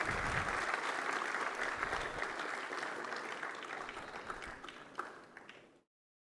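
Sustained audience applause at a CRPF investiture ceremony, a dense steady wash of many hands clapping that carries on for nearly six seconds before stopping abruptly.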